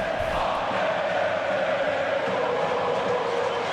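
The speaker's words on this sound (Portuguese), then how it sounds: "E a torcida dá-lhe cantar." Stadium crowd chanting in a football video game simulating the Corinthians Copa do Brasil 2022 final, a dense, steady roar of massed voices that holds at an even level throughout with no commentary over it.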